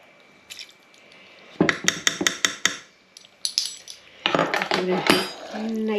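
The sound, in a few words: spoon mixing brandy-soaked fruit in a bowl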